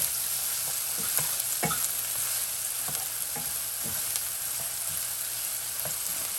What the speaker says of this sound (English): And we're going to also add all our onions. So we're going to saute it for around a minute.